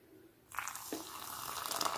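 Hot water poured from a container into a coffee filter holding ground coffee, starting after a quiet moment and continuing as a steady splashing trickle, fairly soft and alone without talk.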